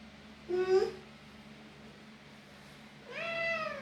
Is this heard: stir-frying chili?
no